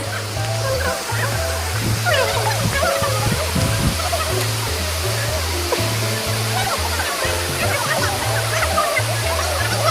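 Jalbire waterfall in Chitwan, Nepal roars in a loud, continuous rush of falling water that fills the scene, steady and close, with faint voices mixed into the flow.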